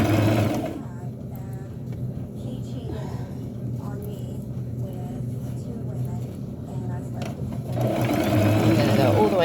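A sewing machine stitches sheer fabric for a burial gown, its close, fast motor whir loud at the start and end, with a quieter stretch in the middle where someone talks.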